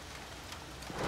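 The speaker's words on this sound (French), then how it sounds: "C'est pas de la petite pluie là." Heavy rain pouring steadily in a dense, even hiss that swells slightly toward the end, with no voices.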